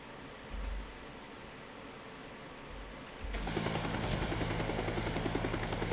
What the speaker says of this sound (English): Let's go for the helicopter, you know.